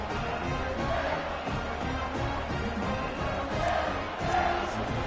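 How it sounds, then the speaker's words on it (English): A football stadium crowd buzzes after a score, a dense, continuous roar of many voices with swelling cheers, heard from within the stands at moderate loudness. "this crowd is buzzing after that last score"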